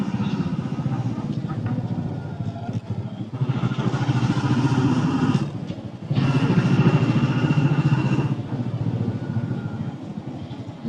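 A Royal Enfield motorcycle rides steadily with a continuous, loud engine drone and road rumble, dipping briefly mid-ride before resuming, with a rider's voice and laughter now and then over it.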